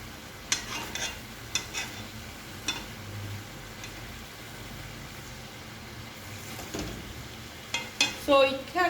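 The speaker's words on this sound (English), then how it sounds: "as I brown the meat, it is being cooked." Stew beef browning in a pot, a low steady sizzle under a series of sharp utensil scrapes and knocks against the pot, close and moderately loud, with a cluster of clinks toward the end.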